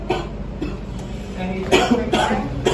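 A few short, rough coughs close by from a smoker with a week-long cough, spaced unevenly over a steady background hum.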